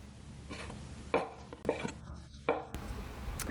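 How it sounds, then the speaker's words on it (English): A knife chops beef tenderloin strips into small pieces on a board. Three or four distinct, fairly quiet cuts land at irregular intervals over low kitchen background noise. "So I bought this tenderloin strips, so it's a lot easier for me to cut into small pieces."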